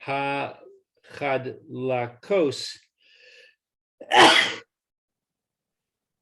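Someone speaks a few words, pauses, then lets out one sharp, loud sneeze followed by silence.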